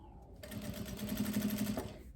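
A sewing machine stitches a viscose blouse in one short, close burst, its motor and needle whirring in a fast, even chatter after a brief quiet start.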